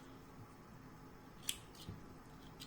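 Scissors snip through crochet yarn, with one sharp cut and a few softer clicks over a quiet background.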